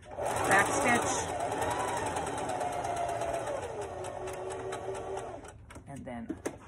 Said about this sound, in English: I'm stitching a straight stitch, and I'm gonna put the needle in right next to the fold, back stitch